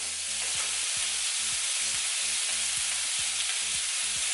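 Live prawns sizzle on a home BBQ grill in a steady, loud hiss of frying, with a rhythmic beat of music pulsing underneath.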